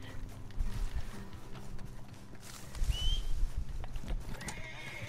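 Hooves of a horse in the Red Dead Redemption 2 video game clop along at a walk, fairly quiet and close, and the horse lets out a brief whinny partway through, with no talk over it.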